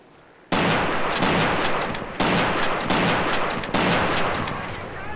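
A 152 mm ML-20 howitzer-gun M1937 fires in Battlefield, booming three times in a roughly regular rhythm, each blast loud and near with a long rumbling decay.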